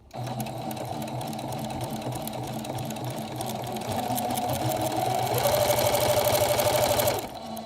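A sewing machine runs in a steady mechanical chatter, back-stitching through several layers of quilt fabric, the needle rhythm speeding up and growing louder near the end before stopping abruptly.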